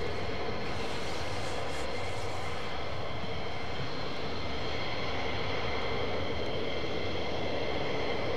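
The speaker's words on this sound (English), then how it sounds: "That's a C-130, isn't it? Going out of the hall." A Lockheed C-130 Hercules flies out at RAF Lakenheath, a steady, loud broadband engine roar holding throughout with no break or voices.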